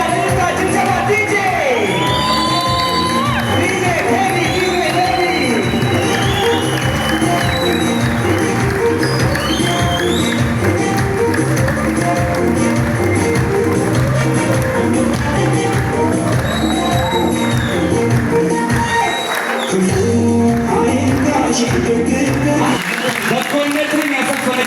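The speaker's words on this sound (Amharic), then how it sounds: "ጭብጨባ" Crowd at a ceremony applauding and cheering, a sustained dense wash of clapping with whoops, shouts and voices mixed in, with a brief dip near the end before the clapping resumes.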